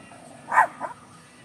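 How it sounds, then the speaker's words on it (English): A neighbour's dog outdoors gives two short, fairly faint barks in quick succession, heard from some distance against quiet outdoor ambience. "And you're probably going to hear the dog growling behind me."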